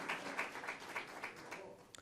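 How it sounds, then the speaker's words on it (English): An audience at a neighborhood town hall meeting gives a short, fairly quiet round of applause, steady clapping from a room of people that fades out after about two seconds. "Give them a round of applause because they care."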